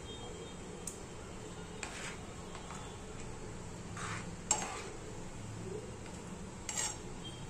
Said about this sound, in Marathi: असं हलवून घ्यायचं।